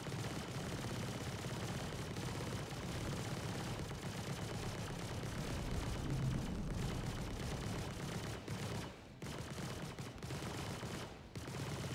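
Ship turret gunfire from a Retaliator bomber in the space game Star Citizen, a steady roaring fusillade of rapid shots that runs almost unbroken, with brief pauses near the end.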